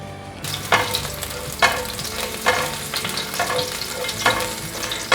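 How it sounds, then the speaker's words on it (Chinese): Chopped celery sizzles in hot oil in a wok, a steady frying hiss broken by about six rhythmic scraping stirs of the spatula, close up with no talking. "现在锅内放入少许的油，油热了，把芹菜末放进来炒香。"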